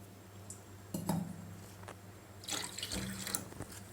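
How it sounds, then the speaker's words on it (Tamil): Half a cup of water is poured from a tap or vessel onto sugar for a gulab jamun syrup, a soft splashing trickle in short bursts with a clink of a utensil, quiet and close. "அதில் 1/2 கப் தண்ணி விட்டுக்கோங்க"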